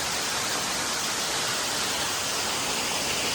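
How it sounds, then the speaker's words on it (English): A waterfall in the Ozarks pours down hard after heavy rain, a steady, dense roar of rushing water that stays loud and even throughout, with no voices over it. "that water's just pouring down."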